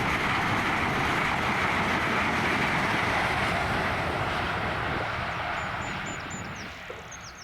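Class 60 diesel locomotive 60021 hauling a loaded coal train at a level crossing, a steady loud rumble and roar of engine and wagons rolling past close by, easing slightly toward the end.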